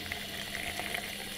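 A sink tap runs in a newly settled rural home, giving a soft, steady hiss of flowing water that stays faint and even throughout the short moment.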